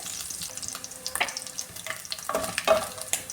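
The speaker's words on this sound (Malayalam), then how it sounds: "ഇനി ഈ തേങ്ങ ഇട്ട് കൊടുക്കാമേ" Grated coconut frying in hot oil in a pan while a beef curry is being made, giving close, crackling sizzles with uneven pops and scraping stirs throughout, and no talk.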